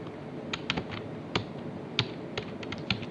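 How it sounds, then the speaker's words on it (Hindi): Soft clicky typing on a Logitech K480 wireless Bluetooth keyboard, a quick irregular run of light key taps close up in a quiet room. "जेंता कि आपण माने सुनुथिबे टाइपिंग कला बेले टिके साउंड आसुचे"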